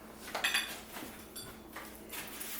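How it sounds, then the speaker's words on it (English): Dishes are handled in a home kitchen, with a few ceramic clinks and knocks against light background noise and no talking. "Let me get some dishes here."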